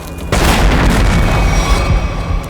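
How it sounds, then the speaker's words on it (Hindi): A deep, loud explosion booms suddenly and then keeps rumbling, heavy and sustained, with no voices. "लगता है कहीं धमाका हुआ है।"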